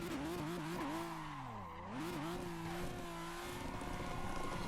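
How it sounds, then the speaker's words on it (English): A Toyota Supra MK4 doing a tire burnout in Assetto Corsa, its engine revving loudly up and down with a dip and recovery, over a steady gritty tire-spinning hiss. "Get that nice thick burnout going. Peel the tires, peel them."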